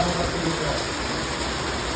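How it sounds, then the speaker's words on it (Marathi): Steady, dense hiss of rain falling hard, constant throughout with no pauses, close and fairly loud. "पाऊस बघताय तुम्ही, भरपूर पाऊस आहे अजून"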